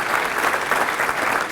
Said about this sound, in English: How about a big round of applause for Dr. Perkins and everything she does